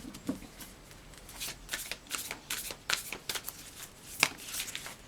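Tarot cards being shuffled by hand make a run of soft, papery riffles and flicks, quiet and close, with irregular bursts and a couple of sharper snaps, with no talking.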